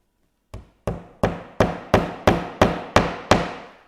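A hammer taps a nail into a wooden welcome sign, with a nail held in pliers: nine sharp, evenly spaced strikes, each ringing briefly and growing slightly stronger, close and clear with no talk.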